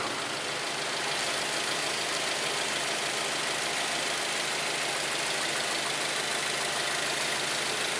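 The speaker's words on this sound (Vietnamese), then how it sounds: "Và máy nổ rất là êm." A Ford Escape with automatic transmission idles steadily and smoothly, a low even hum with a faint hiss, no voices present.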